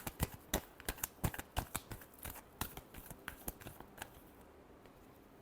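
Tarot cards being shuffled by hand in quick, close riffling bursts, a rapid series of sharp snaps that thins out toward the end.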